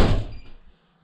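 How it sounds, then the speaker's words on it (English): A keypad-locked front door of a home in Korea swings shut with a single solid thunk, followed by a brief fading rattle as the lock engages, heard close up with no talking. "Once we're inside, the door automatically locks."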